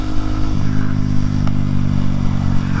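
A 2025 Kawasaki Z900 motorcycle engine runs steadily while riding, a loud, close, continuous low drone with a slight shift in pitch partway through and no talking.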